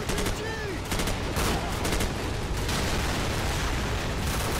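Rapid bursts of video game gunfire crackle densely and loudly over several seconds, with sharp repeated shots, a few whistling ricochets and a rumbling background of impacts.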